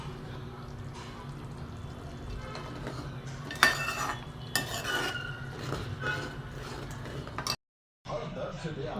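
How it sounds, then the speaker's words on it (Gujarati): Homemade paneer butter masala gravy going into hot oil in a pan, with steady clatter of utensils, stirring and a soft simmering hiss, and a couple of sharper clanks midway; someone talks over the kitchen sounds. "હવે તેલની અંદર મેં આ જે ગ્રેવી બનાવેલી હતી નાખી દીધી છે. હવે આપણે એને થોડીક વાર ઉકળવા દઈશું."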